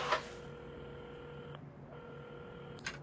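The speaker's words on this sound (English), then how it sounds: "at the counter, Carmen had started dialing the phone" A telephone dialed in the video game Assemble with Care, a steady electronic tone running under faint background hum, breaking off midway and resuming, with soft clicks at the start and end.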